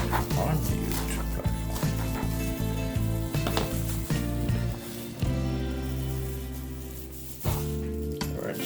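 Chinese vegetable stems sizzle and fry in a hot pan with a steady, loud crackle, and a voice talks over the cooking.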